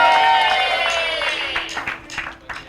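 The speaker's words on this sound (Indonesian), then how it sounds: "Kasih tepuk tangan dulu dong." Studio audience clapping on an Indonesian television talk show, a crowd patter rising under a fading musical tone and lingering as scattered claps with brief talk near the end.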